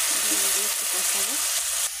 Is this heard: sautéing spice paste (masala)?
yes